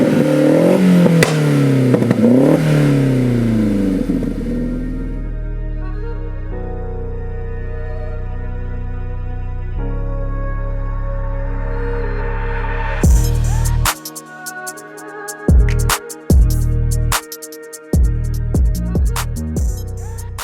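A tuned 1.8T engine in a 685 kg, 400 bhp Spitfire being driven hard, revving loudly and rising and falling in pitch, then cracking and popping in sharp bursts as the throttle lifts.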